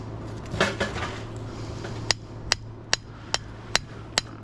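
A hammer striking copper inside a torn-up scrap transformer gives six sharp, evenly spaced metallic knocks, each ringing briefly. Fainter clunks and handling noise come first, over a low steady hum.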